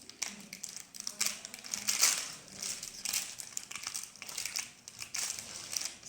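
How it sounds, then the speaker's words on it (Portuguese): Leftover parchment paper is peeled and crinkled off a baked brownie, giving close, repeated crackling and crumpling bursts throughout with no talking. "aquele papel manteiga sobrando, ó? Eu consigo tirar ele bem tranquilo aqui."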